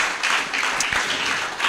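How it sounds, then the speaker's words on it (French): Inside a church, a congregation applauds in praise with dense, continuous clapping for a brief moment. "Applaudissez Jéhovah, alléluia."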